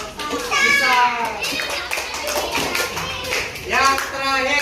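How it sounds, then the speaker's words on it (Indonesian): Children in a classroom clap together in a steady burst of applause, with children's voices and chatter mixed throughout. "Tepuk tangan untuk Isan"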